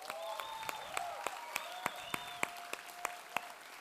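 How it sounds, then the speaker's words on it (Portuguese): Sparse, distinct claps at a steady pace from a small group, acknowledging a sound and lighting team, fairly close, with faint tonal sounds ringing underneath. "Você pode dar uma salva de palmas para eles?"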